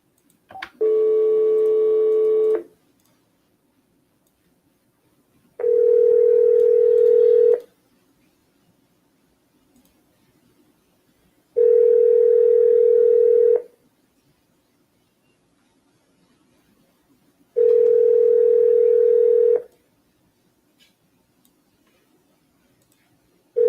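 A telephone rings back during a cold call as four long, evenly spaced tones sound loud and clear, each lasting about two seconds, with near silence between them.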